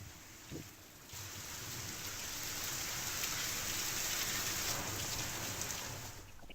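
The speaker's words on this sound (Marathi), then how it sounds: "बुलढाणा जिल्ह्यात सुद्धा दमदार अवकाळी पावसानं हजेरी लावलेली आहे" Heavy unseasonal rain falls in Buldhana district, Maharashtra, a steady broad rushing hiss that swells after a brief quieter start and holds evenly, with no voices.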